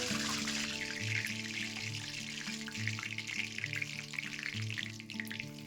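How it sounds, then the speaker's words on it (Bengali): Dry red chilies, bay leaf, cumin and radhuni sizzle steadily in hot soybean oil in a wok for a mixed vegetable dish, with a continuous crackling fry and faint stirring, no voices. "শুকনো লঙ্কা, তেজপাতা, জিরে আর রাঁধুনি দিয়ে ফোড়ন দেবো।"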